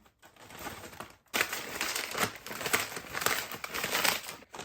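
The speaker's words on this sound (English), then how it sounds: "You can put big chunks in the bag and then crush it up in the bag" Big chunks of food being crushed inside a plastic bag, with dense, continuous crinkling and crunching close up after a short pause, rising and falling in steady bursts.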